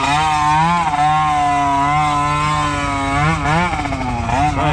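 A motorcycle engine idles and revs continuously at close range, a loud buzzing drone whose pitch rises and dips with throttle blips, with no voices over it.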